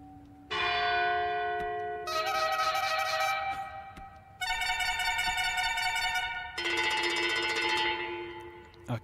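A cowbell rings in four separate bursts of clattering, metallic jangling, each lasting about two seconds with brief pauses between, loud and close with no speech.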